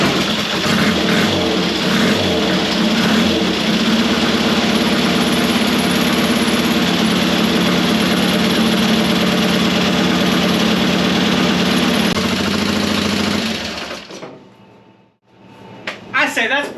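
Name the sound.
Triumph Desert Sled motorcycle engine kick-started and idling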